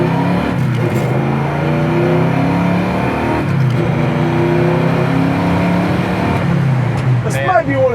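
A powerful 1970 Mercury Cougar XR7 engine roars as it accelerates, pitch climbing through gear changes, loud and close inside the car, with people talking over it.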